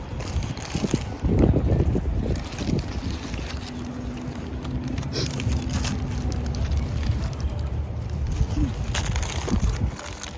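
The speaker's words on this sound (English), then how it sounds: "Yeah, it's so windy." Strong wind blows across a lake, a steady, loud rumble and buffeting against the microphone with occasional gusts and faint background sounds.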